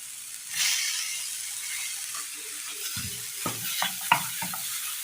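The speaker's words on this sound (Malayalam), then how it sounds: "അടുപ്പത്തൊരു പാൻ വെച്ച് കൊടുത്ത് നന്നായി ചൂടായി വരുമ്പോൾ അതിലേക്ക് മത്തങ്ങ അരിഞ്ഞത് ഇട്ട് കൊടുക്കാം" Chopped pumpkin drops into a hot pan and sets off a steady hiss of frying. Later, several sharp scrapes and clacks of a spoon stir the pieces over the ongoing sizzle.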